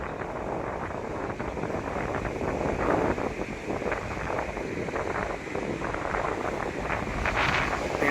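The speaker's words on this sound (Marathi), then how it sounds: "मस्त हवा सुटली आहे, वारा मस्त सुटलाय." Strong wind roars steadily across the microphone at Table Point on the Ratnagiri coast, a constant loud buffeting rush with no voices.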